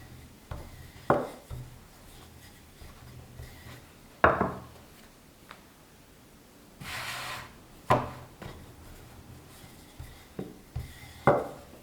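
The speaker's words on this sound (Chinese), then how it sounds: "直接按压扁，擀成圆形薄饼状" A ball of dough pressed flat and rolled into a thin round for layered home-style flatbread, with repeated knocking and rolling-pin thumps on a wooden board, each followed by soft scraping, close and unhurried.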